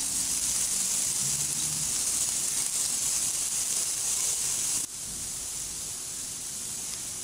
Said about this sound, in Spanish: Aquí ya tengo mi sartén caliente, le voy a incorporar un poquito de aceite. Vamos a dorar nuestro ajo.